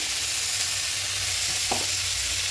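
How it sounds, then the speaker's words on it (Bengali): Water is poured onto hot masala paste in a pan while cooking a spinach curry with fish head, giving a steady loud sizzle throughout with a brief burst of bubbling near the end. "এবার এখানে মশলা পেস্টে জলটা দিয়ে দেবো"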